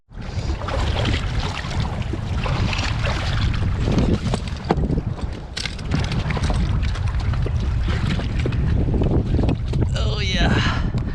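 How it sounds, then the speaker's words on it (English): Wind gusts over the Bow River during a February fly-fishing float trip, buffeting the microphone in a loud, continuous rumble with surges and lulls, along with boat and water noise. "It's getting a little bit more windy, so close out the trip here soon."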